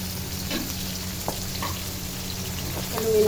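Ginger, garlic and onion frying in a pan, a steady close sizzle with faint crackles and a few stirring clinks.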